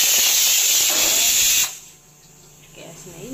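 A kitchen pressure cooker on a gas stove whistles loudly, a steady high steam hiss for over a second and a half before it cuts off abruptly, leaving faint background sound.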